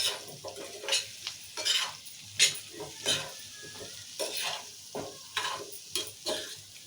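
Drumstick and tomato curry is stirred in hot oil in a pan, with repeated scraping strokes of the spoon in an uneven rhythm over a soft background sizzle, close and clear.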